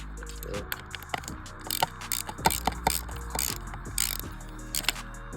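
A ratchet snugs the bolts on a short ram intake for an M45 engine, with quick runs of close metallic clicks mixed with clanks and handling knocks, moderately quiet, and no talking.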